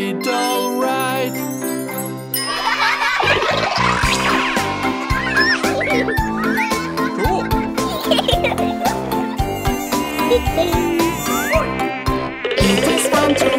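A children's song about mosquitoes features a high whining buzz woven through bright, busy music with jingly tones and sung voices, the whine darting up and down throughout.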